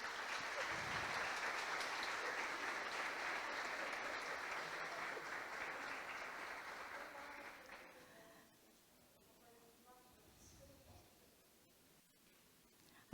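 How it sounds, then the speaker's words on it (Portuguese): Congregation applause inside a parish church in Rio Verde, Goiás: a broad wash of clapping that holds for about eight seconds, then fades into quieter room sound with faint scattered noises. "aplausos, né?"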